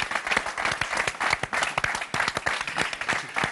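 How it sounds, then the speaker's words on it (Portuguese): Steady round of applause from a small gathering of friends, many hands clapping in a dense, continuous patter that stays fairly loud for the whole stretch without pause. "Uma salva de palmas para você."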